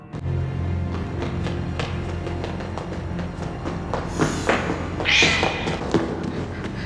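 Cats meow and scamper through a castle in a Game of Thrones scene, several short meows and thumps over a low background score, with louder cries near the end.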